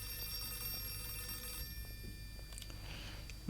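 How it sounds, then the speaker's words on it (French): A telephone rings inside the horror video game Outlast II, a bell-like ring that stands out against a constant low rumble of ambient game noise, with no talking. "Le téléphone qui sonne."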